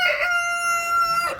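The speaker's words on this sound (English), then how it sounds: "Why this rooster bothers Leghorn, I do not know" A rooster crows once, close and loud, a single sustained cock-a-doodle-doo standing alone with no talk around it.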